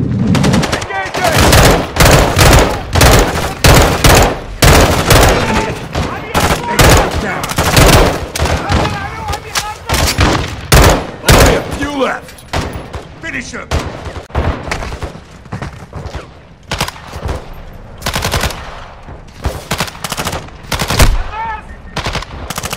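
Heavy gunfire in Call of Duty Modern Warfare 2 during a strike-and-kill-or-capture mission: loud bursts of automatic fire and single shots crack in rapid succession for the whole stretch, with shouted voices now and then between volleys.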